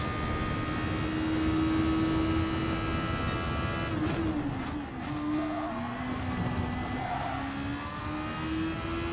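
Super Formula race car in a racing video game at Interlagos, engine holding a high steady whine down the straight, dipping briefly as it shifts or lifts, then climbing again, close and continuous with no talk.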